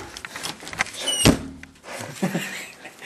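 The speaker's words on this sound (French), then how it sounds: "Ferme la porte, Max." A door is shut with one sharp thunk in the middle of the clip, close and loud. Brief squeaks come just before it and faint rustling follows.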